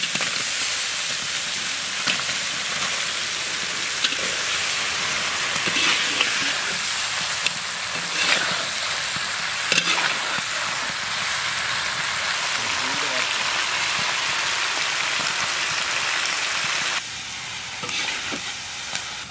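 Quail meat drops into a pan of spiced masala cooked with turmeric and salt, giving a steady close sizzle and frying hiss with stirring noises throughout, which dips slightly near the end.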